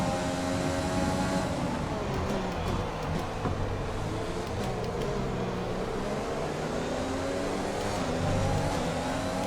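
F1 race car engine in the F1 2020 video game at Zandvoort, a steady high-pitched whine with shifting revs, loud and continuous throughout as the car is driven.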